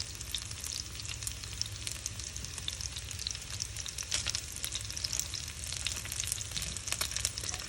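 Meatballs for a sweet and spicy dish fry in a pan with a steady, close, continuous sizzle and crackle, with occasional faint stirring clicks and no talking.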